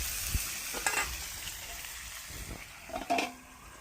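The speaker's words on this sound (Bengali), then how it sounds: "আমার তেল ছেড়ে দিচ্ছে মাংস।" Meat frying in oil in a pan sizzles as a steady broadband hiss, with a few brief stirring knocks and scrapes around one and three seconds.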